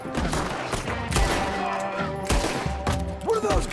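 Gunfire in Red Dead Redemption 2: a loud, sustained fusillade of overlapping shots mixed with busy game sound and music.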